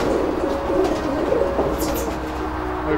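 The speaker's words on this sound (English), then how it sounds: "And you take care of all the pigeons for Yannick here?" Racing pigeons coo softly inside a loft, a low repeated murmur of several birds at close range over a steady background hum, with no talk.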